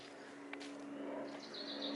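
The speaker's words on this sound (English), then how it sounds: "Birds!" Faint, high chirps flicker over a steady background hum, a few brief bird calls near the end.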